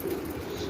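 Pigeons coo softly in a brief moment at a home loft, with a faint flutter of wings mixed in against low background noise.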